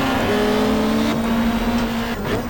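The Atlantis Peugeot and other 1995 Australian Super Touring cars race through turn one at Calder Park in the video game GTR2, their engines holding a loud, steady, sustained drone that shifts slightly in pitch.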